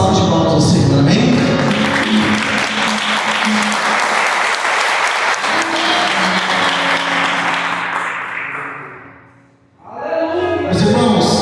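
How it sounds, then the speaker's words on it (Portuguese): A church congregation claps together in sustained, loud applause for about eight seconds, fading briefly before voices and the room resume near the end. "desse uma salva de palmas ao Senhor"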